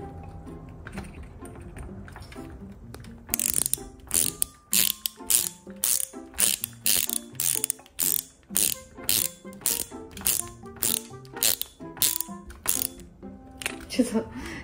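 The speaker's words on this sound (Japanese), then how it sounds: "ちょっとネジをこんな感じで入れました" Screws being driven into a model Honda NSX car body kit, a close series of rapid ratcheting clicks in regular bursts, repeated steadily for several seconds.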